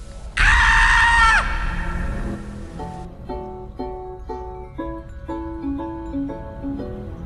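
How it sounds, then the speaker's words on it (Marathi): A single loud, shrill scream from a crowd in a horror story scene rings out for about a second, then fades into a sparse, eerie music melody that continues alone. "प्रत्येक जण किंचाळत आहे."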